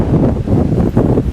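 Strong desert wind gusts buffet a small one-person backpacking tent, giving a loud, steady roar that rises and falls in rough surges with rustling flaps.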